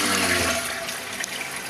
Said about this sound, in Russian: Сейчас мы будем сливать воду.